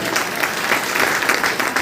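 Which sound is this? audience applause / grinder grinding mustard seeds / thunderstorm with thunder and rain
audience applause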